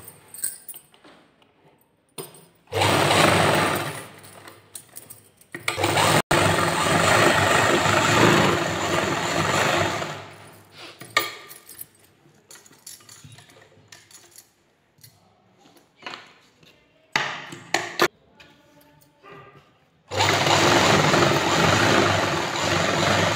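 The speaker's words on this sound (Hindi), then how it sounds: "यहाँ से दोनों ओर जोले के सिलाई लगा लेंगे।" Sewing machine stitching salwar fabric, heard as a steady loud mechanical whirring run that stops and starts, with quieter clicks and handling noise in the pauses.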